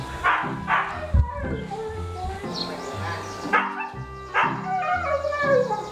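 Several dogs bark and yip in repeated bursts nearby, with some whimpering between the barks.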